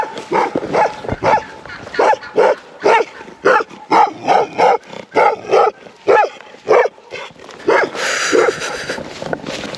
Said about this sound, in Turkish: Köpek geldi.